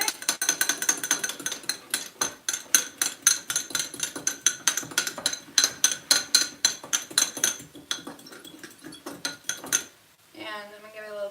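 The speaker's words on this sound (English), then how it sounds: "I'm actually just going to whisk this together." A whisk beats spicy mayo sauce in a bowl with a rapid, rhythmic run of bright clinks and taps, close and loud. It stops abruptly, and a voice briefly follows.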